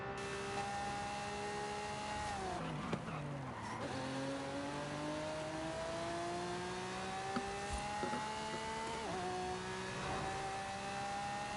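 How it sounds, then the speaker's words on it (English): A Volvo car in the racing game Forza Horizon 5 accelerating hard, its engine note climbing steadily through repeated gear changes, with brief dips between shifts and a constant loud drone throughout, no talking. "Listen to the car just go."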